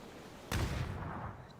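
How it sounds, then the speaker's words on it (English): A single grenade blast in a competitive video game match, a sudden sharp boom that rolls off into a fading rumble, heard alone at moderate volume. "Nades go out."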